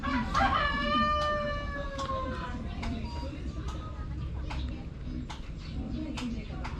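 Dekalb Brown chickens clucking and a rooster crowing nearby, with sharp taps and scratches and a person talking quietly in Filipino in the background.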